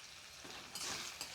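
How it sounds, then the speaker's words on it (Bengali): Onions with salt frying in a pan while cooking spicy mutton curry, a steady close sizzle that swells briefly louder midway, with no talking. "পেঁয়াজটাকে বেশ লাল লাল করে ভেজে নেব"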